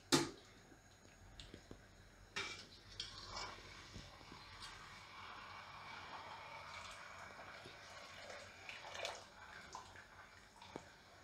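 Boiled potato wafers and their water are tipped into a sieve, giving a soft splash followed by quiet, uneven trickling and dripping as the water drains away, faint and close.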